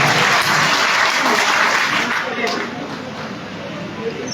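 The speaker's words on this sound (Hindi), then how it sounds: "एक बार तालियों की गूंज में इन्हें बताइए क्या वो गीत सुनना चाहता है" Audience applause at an all-India mushaira, a dense, loud wash of clapping that fills the whole stretch and eases slightly toward the end.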